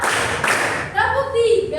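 A group of fourth-grade children in a classroom claps together in short rhythmic bursts while chanting in Indonesian, the claps loud and close.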